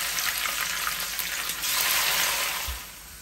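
Soaked bitter gourd fries in hot oil in a pan for a home-cooked sambal, giving a close, bright, bubbling sizzle that swells midway and then drops off toward the end, with no one speaking.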